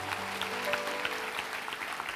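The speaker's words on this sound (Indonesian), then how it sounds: "Kasih tepuk tangan tuh Tuhan." An Indonesian church congregation applauds during a sermon, giving a steady, hissing wash of many clapping hands heard from a distance, with faint sustained tones from instruments underneath.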